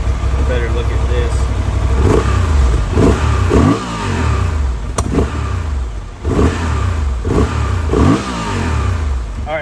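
A 2024 Honda Transalp motorcycle fitted with a slip-on exhaust revs loud and close, its engine note rising and falling in repeated throttle blips over a steady rumbling idle.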